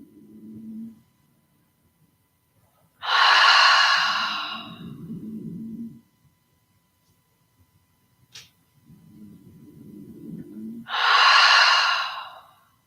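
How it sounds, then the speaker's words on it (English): A person breathes in slowly through the nose, then exhales audibly through an open mouth in a breathy sigh, repeated twice with long quiet gaps, close and intimate during a Kundalini yoga nidra class. "let's breathe in through our nose and exhale through the open mouth 3 or so times"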